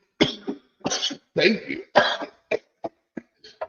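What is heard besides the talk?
coughing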